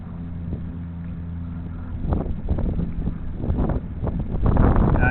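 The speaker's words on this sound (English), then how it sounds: "It got pretty windy for a minute there." Wind gusts buffet the microphone, a low rumbling roar that swells and grows stronger toward the end.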